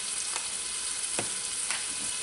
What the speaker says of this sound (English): hearing, you know, your foods hit that hot oil